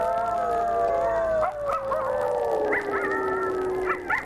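A wolf howls in a long, steady, slowly falling tone, with other wavering howls and yips joining partway through, fairly close and clear.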